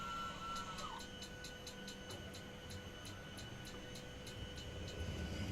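Airliner cabin ambience from a Boris sound pack on a Boeing 737 in a flight simulator game: a steady, loud engine drone with a rhythmic ticking or clicking layered on top throughout.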